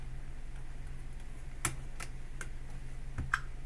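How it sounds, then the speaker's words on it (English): Sharp, isolated clicks from an Aeotec Touch Panel Micro smart dimmer switch, four or five crisp taps spaced irregularly over a steady low hum, close and fairly quiet. "You can turn off the annoying click if you don't like it."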